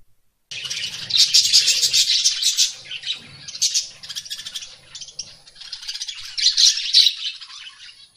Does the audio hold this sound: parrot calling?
yes